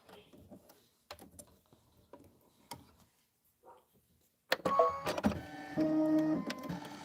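An embroidery machine stitching a quilt block starts up after scattered quiet taps and handling noises, then runs with a close mechanical whir and rhythmic ticking of the needle for the last few seconds.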